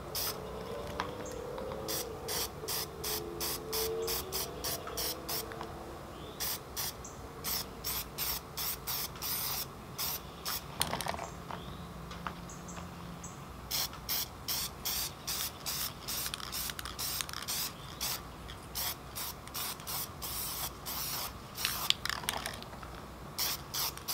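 Aerosol paint sprays a coat onto a Team Associated B6.1 RC car body in repeated short bursts, near and steady, with brief gaps between hisses.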